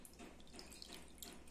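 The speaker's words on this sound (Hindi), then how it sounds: "पानी भर देते हैं पूरा" Water runs steadily from a tap into a glass dish for a science activity, a soft continuous splashing close by with no voices.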